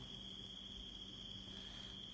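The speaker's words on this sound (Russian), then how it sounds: "Поют сверчки." Crickets chirp in a steady, unbroken high trill close by, with no voices and nothing else over it for the whole stretch.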